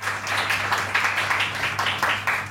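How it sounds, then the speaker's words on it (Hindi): Studio audience applause on a Pakistani TV morning show set, a steady wash of many hands clapping together at moderate loudness, with a low hum underneath and no talk. "चले, बहुत ताली, जोरदार तालियां हो जाएगी इनके लिए।"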